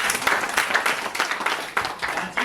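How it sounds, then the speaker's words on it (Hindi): A Water Fest 2025 audience claps for environmentalist Dr. B.K. Sinha, with distinct individual claps close by over a broader patter that pulses unevenly for a couple of seconds. "तो सर के लिए एक जोरदार तालियां."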